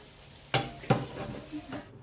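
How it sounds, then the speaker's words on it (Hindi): Cauliflower fried and stirred in a pan, two distinct spatula knocks against the metal followed by softer scraping over a faint, low hiss. "तो यहाँ पे गोभी जो है वो मैं अच्छे से कर रही हूँ उसको फ्राई।"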